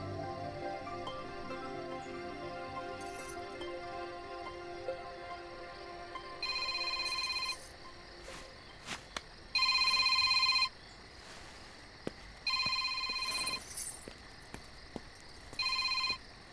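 A telephone rings in repeated short bursts during a Hindi film scene, each ring loud and clear over soft background music, with four rings spaced a few seconds apart.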